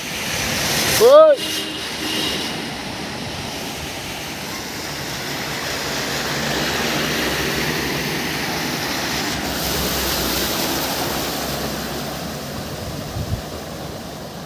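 Floodwater rushes steadily through the Barak valley, a broad continuous wash heard close and fairly loud, while a person talks over it and a short sharp sound cuts in near the start.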